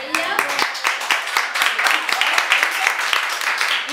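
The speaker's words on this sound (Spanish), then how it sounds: "Un aplauso para ella." A small group claps for a woman during a Mother's Day lunchbox sales class, sharp, uneven hand claps close by that continue for several seconds, with a voice mixed in.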